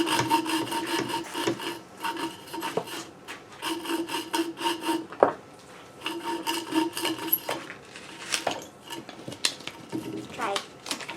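Sawing and rubbing on pinewood for a pinewood derby car, slow repeated back-and-forth rasping strokes in short bursts with light clinks between, close by.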